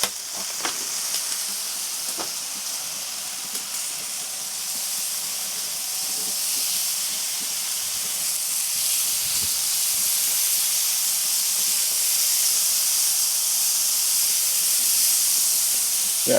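Steady broadband sizzle of bacon frying on a hot grill during a burger cook, a constant hiss that holds level and slowly builds for the whole stretch, with no talk over it.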